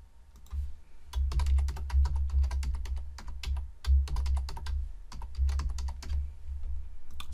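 Fingers tapping out a password on a computer keyboard, a close run of quick, irregular clicky keystrokes in small bursts with brief pauses.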